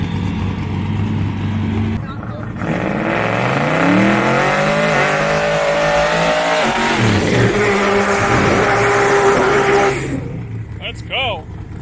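A loud Buick street car engine roars and revs up hard on a drag strip, with rising whine and tire noise, while voices talk excitedly over it throughout.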